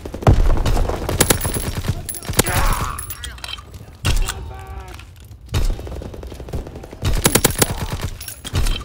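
Call of Duty WW2 multiplayer gunfire: loud bursts of rapid automatic fire in several separate volleys, punctuated by sharper single shots and brief pauses, close and dominant in the mix.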